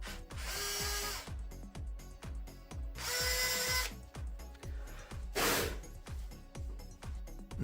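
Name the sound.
power drill drilling guide holes in MDF panel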